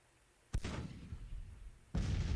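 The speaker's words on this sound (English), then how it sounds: "Cannons are opening up." Cannon artillery fires in the Civil War strategy game Grand Tactician: The Civil War. Two heavy booms go off about a second and a half apart, each with a rumbling tail. The shots are fairly quiet and no one talks over them.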